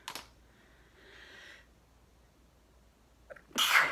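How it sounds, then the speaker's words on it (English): A single sharp sneeze bursts out loud and close near the end, after a faint breathy intake and a short gasp, with near silence before it. "Oh, I'm gonna sneeze maybe."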